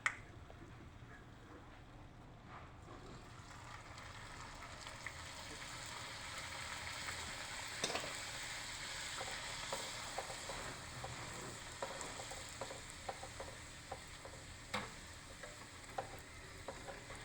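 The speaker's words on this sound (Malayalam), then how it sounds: "ഇതുപോലെ നമുക്ക് എല്ലാ ഭൂരികളും വറുത്തെടുക്കാം." Pooris deep-frying in hot oil give a steady close sizzle throughout, with small crackles and pops and occasional clinks of a utensil, and no talking.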